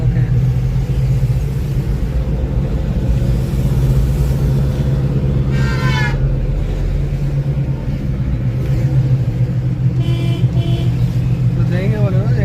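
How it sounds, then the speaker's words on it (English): A Hyundai or Maruti Suzuki car with a turbo fault and low pickup rumbles steadily, its engine drone joined by a faint rising turbo whistle during acceleration, with brief chirps near the end. "you can clearly hear this turbo sound at the acceleration level"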